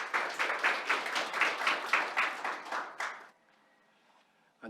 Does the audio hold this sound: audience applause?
yes